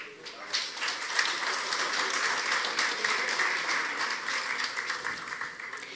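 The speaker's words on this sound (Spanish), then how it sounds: "Un aplauso para él." Audience applause for a government minister at a business forum, dense sustained clapping from a sizeable crowd that stays fairly even for several seconds before easing slightly at the end.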